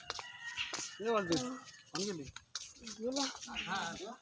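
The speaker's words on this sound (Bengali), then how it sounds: "এখন এখানে একটা পোলট্রি মুরগি নাকি মোরগ, আমি নিজে জানি না" Several hen-like clucks and calls come in short bursts, close by, interleaved with a person talking.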